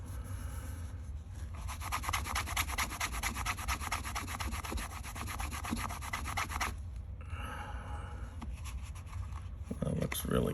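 Wax is rubbed by hand into the belt loop of a leather sheath for a Case fixed-blade knife, making a steady, close scrubbing rasp that pauses briefly before resuming, with faint talk in the background.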